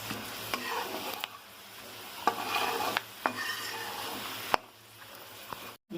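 Sun-dried green chillies fry in oil in a pan while being stirred, a steady sizzle punctuated by repeated sharp taps and scrapes of a utensil against the pan, close and without talk.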